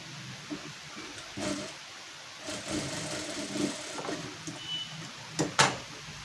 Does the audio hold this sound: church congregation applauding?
no